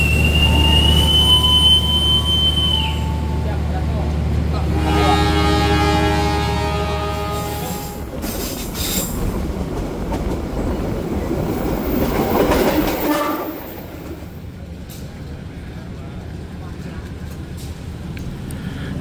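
A KA Motis Utara locomotive-hauled train braking suddenly after striking a car, with a loud sustained horn and metallic screech giving way to rumbling, clattering wheels on the rails as it keeps running.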